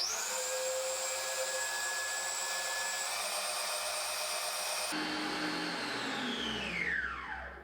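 Stand mixer beating eggs for a foamy chocolate cake batter, a steady whirring motor that steps up from low to high speed and then winds down at the end, close and continuous, with no talk.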